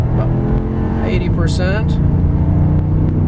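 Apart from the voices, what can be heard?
1998 Cadillac Deville accelerating uphill, 0 to 60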